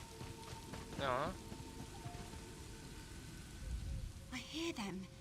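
Rain falls through a forest in The Elder Scrolls Online as a soft, continuous patter, broken twice by brief voice-like calls.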